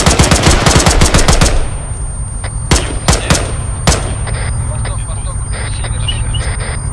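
Rapid bursts of automatic gunfire in ArmA 3, then scattered single shots over a steady engine rumble, loud and close, with a voice speaking at times.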